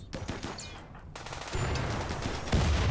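Rapid gunfire and a burst of explosive rumble from the video game RimWorld, dense and loud, growing heavier toward the end.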